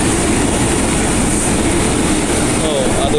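A commuter train at Tanah Abang station rumbles loudly and steadily with a faint wheel squeal near the end, heard close on the platform.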